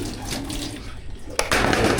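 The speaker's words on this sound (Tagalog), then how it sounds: "tanggalin muna natin itong tubig kasi nga ubos tubig yun" Old water poured out of a container at a pet enclosure, a steady splashing pour that swells louder in the second half, close and alone.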